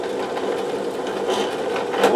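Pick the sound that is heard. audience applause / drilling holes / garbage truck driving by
drilling holes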